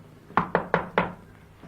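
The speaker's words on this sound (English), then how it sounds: "the wolf knocked at 6 o'clock" In a children's telling of The Three Little Pigs, the wolf knocks at a door: four sharp, close raps in quick succession, heard alone with no speech.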